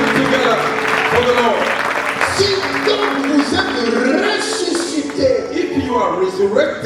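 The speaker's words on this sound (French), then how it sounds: "Oh, put your hands together for the Lord." A church congregation claps steadily for the Lord, a loud and continuous wash of applause that runs straight through while a preacher's voice carries over it.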